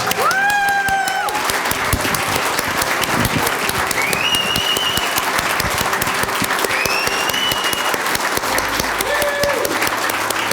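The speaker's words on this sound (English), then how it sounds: "Let's give all the graduates one last round of applause." Graduation ceremony crowd in Nunavut gives the graduates a long, loud round of applause, sustained clapping with scattered cheers and whoops rising above it throughout.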